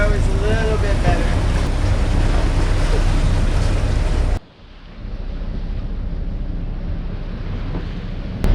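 A sailboat motors through rough sea, with steady engine drone, wind buffeting and rushing water loud and close, then a sudden drop to a quieter, duller roar partway through.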